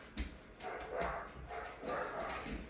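Puppies bark and yip while playing downstairs, a few short, faint bursts heard from a distance in an otherwise quiet room.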